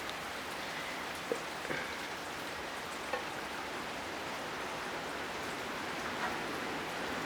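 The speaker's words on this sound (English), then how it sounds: "showers producing heavy rain" Gusty rain shower in southeastern Pennsylvania, a steady dense hiss of rain falling outdoors with a few faint drips and taps standing out, no voices.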